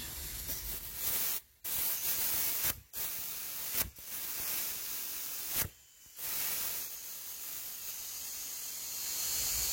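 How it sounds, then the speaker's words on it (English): A handheld spray bottle, likely holding soapy water, hisses in long close bursts broken by a few brief pauses, with no talking. "Okay, I got my spray bottle."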